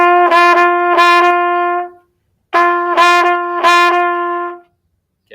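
Brass instrument playing swung jazz eighth notes, long-short pairs with the second note slightly accented, in two short phrases separated by a brief pause, clear and close with no talking.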